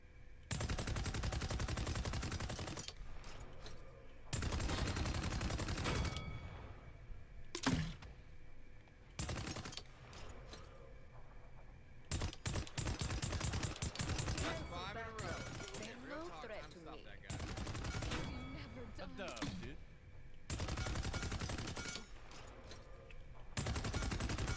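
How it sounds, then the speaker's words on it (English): Gunfire from the hero Tyra in the game Paladins, her regular weapon plus a right-click grenade launcher: repeated bursts of rapid shots in clusters with short gaps between them, loud and close, over a faint background. "Her right click nade launcher, fire a grenade that deals 700 damage in a small area of effect."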